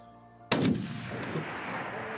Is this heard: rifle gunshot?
yes